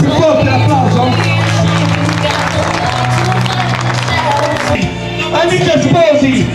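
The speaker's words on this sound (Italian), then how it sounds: "Non ce la facciamo un po' più forte l'applauso?" A crowd of guests claps and cheers more loudly at a bridal casting party in Scafati. The steady clapping and crowd babble run through the whole stretch over loud, bass-heavy party music.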